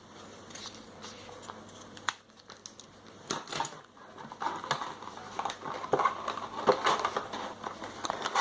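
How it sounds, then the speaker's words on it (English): Craft material being cut for a homemade boat, with short irregular snips and scraping rustles close by, growing busier in the second half; faint talk is heard. "so we'll just cut a little bit more off"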